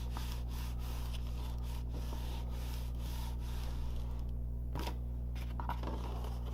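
Thumbs press and rub glued paper card envelope flaps, making soft, repeated scraping and rubbing strokes close by over a constant low electrical hum.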